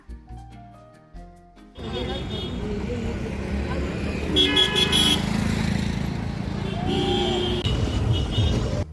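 A car carrying a family on a hot-day trip to Savadatti Yellamma hill, with a steady engine and road drone, passing traffic and a couple of horn toots. Voices talk over the noise inside the vehicle.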